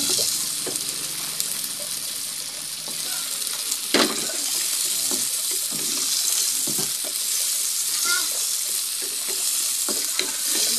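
Mung beans and anchovies sautéing in a pan for Filipino ginisang monggo at dilis give off a steady sizzle, with scattered clinks and scrapes of stirring and some running-water noise through a kitchen, no talk.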